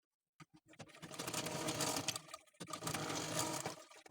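A sewing machine stitches the lining of a blouse in close, continuous runs, starting with a couple of quick taps and pausing briefly midway before whirring on.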